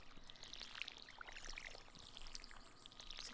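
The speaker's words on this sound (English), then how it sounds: "we'll water our garden like a good little farmer" Water pouring and splashing as a garden is watered in a farming video game, a faint continuous stream with bright chirping bird calls scattered over it.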